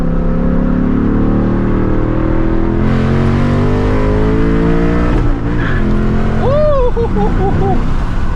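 An 800 hp Shelby GT350 running on a fuel blend roars loudly as it accelerates, its rising engine note climbing through the gears before tires chirp near the end, with someone talking excitedly over the noise.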